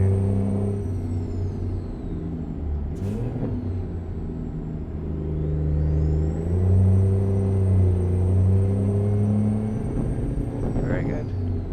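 A Mack R truck engine drones steadily on a race track in American Truck Simulator, rumbling low and loud with rising and falling revs as it speeds along, and faint whistling tones sweep across it.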